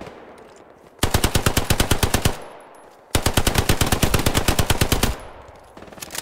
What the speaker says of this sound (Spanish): Un MG ahí en la barca.